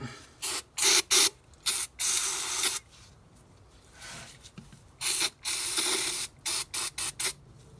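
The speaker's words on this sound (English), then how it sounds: "I'm gonna spray these out." Repeated short bursts of ether cleaner sprayed onto Bobcat T650 final drive parts, loud and close, in an uneven rhythm of quick puffs and longer blasts separated by brief silences.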